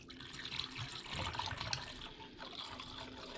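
Liquid from a gallon jug is poured into the engine of a procharged Camaro, gurgling and trickling quietly in a continuous, uneven glug with no voices.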